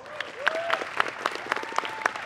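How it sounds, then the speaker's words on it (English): An audience claps steadily, a moderate round of applause with individual claps audible in a brisk, even rhythm. "Big applause."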